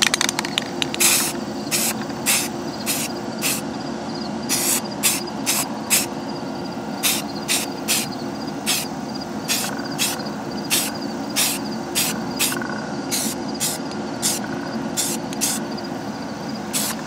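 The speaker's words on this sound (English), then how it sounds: "Got some Rust-Oleum flat white primer for the longest lasting finish." Rust-Oleum flat white spray primer hisses from an aerosol can outdoors in a backyard, coating fishing spoon lures in many short, regularly spaced bursts against a steady background hum.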